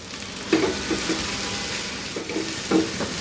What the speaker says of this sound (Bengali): কাঁচামরিচ আর রসুন যে আমি থেতো করে রাখলাম ওইটা ওইটা দিয়ে এর সাথে মিনিট দুয়েক ভেজে নিব